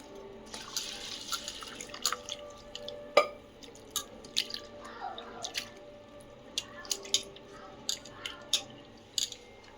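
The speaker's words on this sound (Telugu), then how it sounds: "ఈ అటుకులు వాటర్ పోసుకొని కడుక్కుందాం" Water drips and splashes with irregular small clicks and trickles, close by, as flattened rice (poha) is rinsed in a bowl, with no talking.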